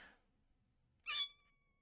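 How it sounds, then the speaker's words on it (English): A cat named Star, lying down, lets out a single short, bright meow, close and fairly loud, after a faint breathy sound and a stretch of near silence. "she's laying down and just meowing constantly"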